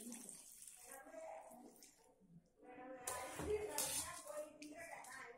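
Water splashes and pours into a cooking pot of chicken close by, intermittent and uneven, with a voice speaking faintly around it.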